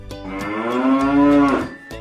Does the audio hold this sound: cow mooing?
yes